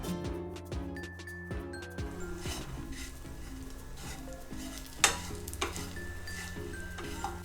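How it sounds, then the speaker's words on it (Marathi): Spices for a dhaba-style egg masala sautéing in a pan, with a steady frying sizzle broken by repeated clinks and scrapes of stirring, plus a couple of sharper knocks. "मसाला टाकल्यानंतर हे सर्व मी 2 ते 3 मिनिटं फक्त परतून घेणार आहे."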